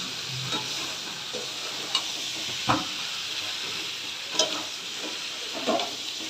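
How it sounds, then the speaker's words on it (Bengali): Potatoes and taro stir-fried in a pan sizzle steadily, with a few sharp spatula scrapes and clacks against the pan breaking through the hiss. "এবার আরও দু তিন মিনিট একটু এইভাবে কষাতে থাকবো মজে গেলে তারপরে জল দিয়ে দেবো"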